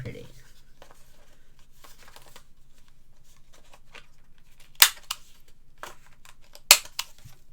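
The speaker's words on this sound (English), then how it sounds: "what I might do is just quickly round those corners off to make them look pretty" A corner rounder punch clipping the corners of paper for a mini album, heard as two sharp, close snaps a couple of seconds apart, with softer paper handling rustles around them.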